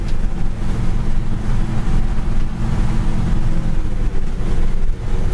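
A 1965 Ford pickup truck shifts into third gear while driving down the road: a steady, loud engine and road rumble with wind buffeting, and only slight dips in the drone.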